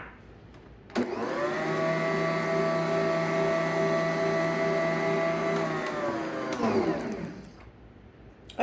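A KitchenAid stand mixer with a large-capacity bowl whirs steadily at close range while it mixes pumpkin bread batter. It starts abruptly, holds a constant motor hum with a faint rhythmic churn for about six seconds, then winds down and stops.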